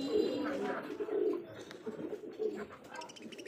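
A pair of Australian doves coo in soft, repeated low calls close by, with a faint voice and background noise underneath.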